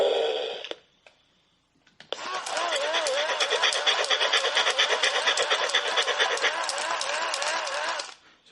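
Motors inside a 2001 Mattel Goddard radio-controlled toy robot dog whir steadily and fairly loudly for about six seconds, with a wavering mechanical pitch, after a brief click and a short pause.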